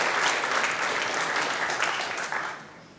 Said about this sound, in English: Another round of applause, Marcus Allen.